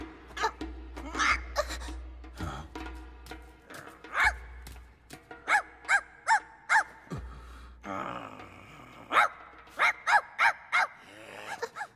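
Dog barking in the Fist of the North Star: Legend of Raoh video game, a series of short sharp yaps in quick rhythm over a low background hum.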